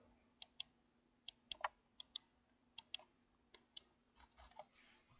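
Sharp clicks from a budget RGB gaming mouse right beside the microphone, a dozen or so crisp taps coming in small irregular pairs and bursts over a faint steady hum.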